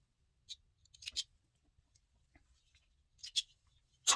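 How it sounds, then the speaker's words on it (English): Quick, crisp snips of regular scissors trimming sewing thread close by, a few isolated cuts spaced apart in a quiet room, one pair of snips then another pause. "I use regular pair of scissors, cut it off right here."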